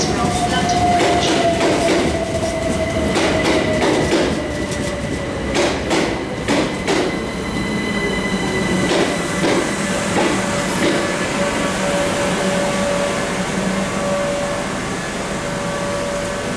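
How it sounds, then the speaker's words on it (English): A Southeastern Bombardier Electrostar electric train pulls into Redhill station, with a steady rumble, repeated clicking wheel-and-rail knocks, and a whining motor tone that falls in pitch as it slows. A platform announcement plays over it. "The train now approaching platform 3 is the 1358 Southeastern service to Hastings."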